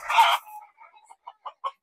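Chickens on a farm cluck in a short run of soft, close calls, with a louder squawk at the start, then evenly spaced clucks.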